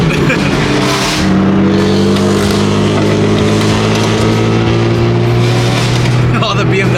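A BMW M3 F80 fitted with an aftermarket exhaust runs loud and close, its engine holding a deep droning tone that rises and settles through revs, with voices talking underneath.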